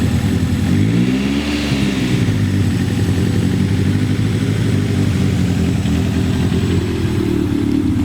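A car with a Honda B20B engine moves under its own power, giving a loud, steady engine rumble that swells briefly as it revs early on and then settles into a continuous drone, with no talk.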